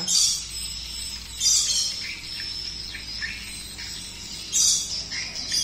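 Recorded swiftlet lure calls used in swiftlet farming play as repeated high, chirping twitters in short bursts, bright and fairly close, over a faint steady background hum.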